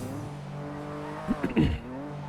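Car engine in GTA V on the NoPixel roleplay server, a steady droning hum with tonal harmonics, then short tire-squeal bursts near the end, heard alone at moderate level.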